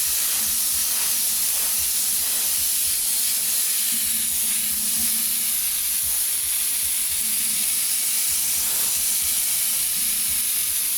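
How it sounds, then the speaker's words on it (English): Airbrush spraying yellow paint in a wide pass over a masked surface, a continuous close, steady hiss of air and paint with slight variations in intensity. "all we're doing is a wide spray, half on the masking and half of it just blends down"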